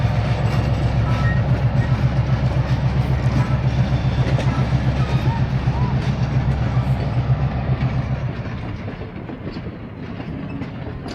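An old heritage train rolls steadily along the tracks at Heritage Park, Calgary, with a rhythmic clickety-clack of wheels, loud and close, fading somewhat toward the end as it passes.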